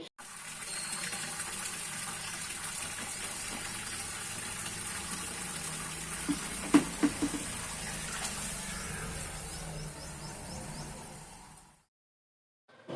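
Steady motor-pumped running water pours and gushes continuously while rice is washed, with a few faint clatters midway, before cutting to silence near the end.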